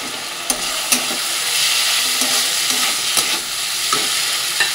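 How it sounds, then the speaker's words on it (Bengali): Washed mung dal hits a pan of fried, well-cooked spice paste with a loud, continuous sizzle and hiss, punctuated by several sharp clinks and scrapes of stirring, close up and without speech. "মশলাটা কষে গেছে, এর মধ্যে দিয়ে দেবো ধুয়ে রাখা মুগ ডালটা"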